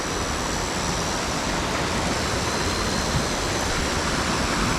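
Water rushing through a forest stream swollen by rain on a trek near Yercaud, a steady loud broadband roar with no voices.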